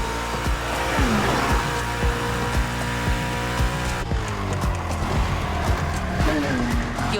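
A car slides through a drift in The Crew Motorfest, its engine roaring loud and steady, with a sustained tire squeal and a shifting pitch as the slide carries on.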